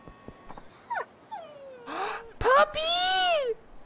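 A dog in the video game Yakuza 5 gives several whining, whimpering yelps, rising and falling high-pitched cries that grow louder near the end, with a voice talking over parts of it.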